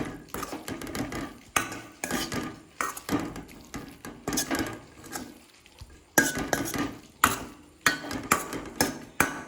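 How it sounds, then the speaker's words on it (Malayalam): Boiled eggs being stirred into softened onions and chili for an egg roast in a pan: repeated scraping spoon strokes and clinks against the metal pan in uneven bursts, with a faint sizzle underneath, close and with no talking. "ഈ സമയത്ത് നമുക്ക് വേവിച്ച് വെച്ച മുട്ട ഇതിലേക്ക് ഇട്ട് കൊടുക്കാം. എന്നിട്ടൊന്ന് മിക്സ് ചെയ്യാം."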